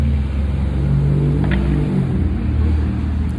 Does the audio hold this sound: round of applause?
no